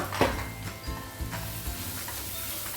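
Bottle gourd sizzles in hot oil with turmeric powder while being sautéed for a Kerala-style curry, a steady close crackle with a few soft stirring scrapes and no talking.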